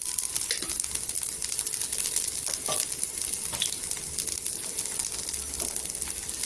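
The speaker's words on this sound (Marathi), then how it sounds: "आणि गॅस स्लोच ठेवायचा इथे थोडस तेल टाकायचं अर्धी चमचा तेल टाकायचं" Half a spoon of oil goes into a pan on a low gas flame while preparing spicy baingan fry, giving a steady soft sizzle with small clicks and scrapes throughout, close and moderately quiet.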